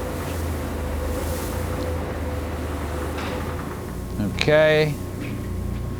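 Summit gap bed lathe running, a steady low mechanical hum and drone throughout, with a brief louder whine near the end and a person speaking briefly over it.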